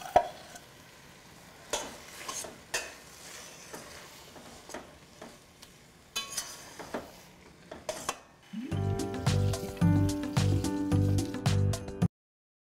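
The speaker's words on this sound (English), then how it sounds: "Let's start with the peas, stir them in, and add the mashed eggplant." Peas and mashed eggplant get stirred in a frying pan for an eggplant bharta curry with tomatoes, with soft intermittent scrapes and clinks of a spoon, followed near the end by a louder, steadier passage with a tonal hum.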